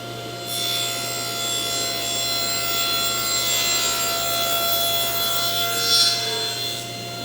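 A table saw cuts a rabbet in a wood panel pushed through on a tall panel jig, producing a steady, continuous blade whine and cutting rasp that holds for several seconds with no talking.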